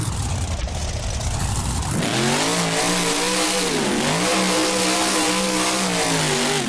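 Gravedigger monster truck engine in a BeamNG 4th of July freestyle, with a brief low idle, then a loud revving engine whose pitch rises, dips and climbs again, steady and close with no talk.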